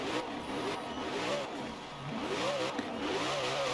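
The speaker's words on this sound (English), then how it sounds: "we're going to go ahead and get a couple revs out of this car" A Koenigsegg Jesko in Forza Horizon 4 revs repeatedly while stationary, its engine tone rising and falling in several quick swells, loud and continuous.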